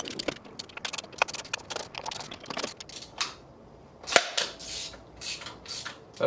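Primary cover bolts on a Harley-Davidson Touring motorcycle being broken loose with a tool, giving sharp metallic pops and clicks in irregular bursts, close by, with one especially loud crack partway through and no talking.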